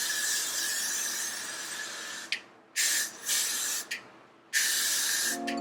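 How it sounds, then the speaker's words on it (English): Hairspray misted onto thick kinky natural hair while styling a sleek ponytail: a long steady aerosol hiss, then several short bursts separated by brief pauses, close and fairly loud. "Start spraying it towards the perimeter of your head and work your way back"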